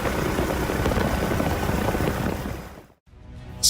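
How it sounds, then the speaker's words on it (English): A German MBB BO-105 aerobatic stunt helicopter roars steadily and loudly overhead with dense rotor and engine noise, dipping sharply for a moment near the end before surging back. "A helicopter doing a loop."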